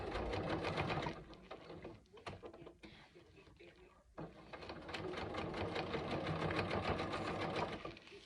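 A sewing machine stitches a backpack front panel in fast, steady bursts, close and clear, stopping briefly midway before running again, with a person talking.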